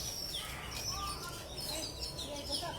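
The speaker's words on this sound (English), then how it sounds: "There are a lot of birds in this." Many birds chirp and tweet in an aviary at Disney's Animal Kingdom, a dense chorus of high, overlapping calls over a murmuring crowd background.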